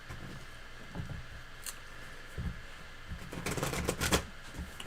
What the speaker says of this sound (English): No, you told me to shuffle first.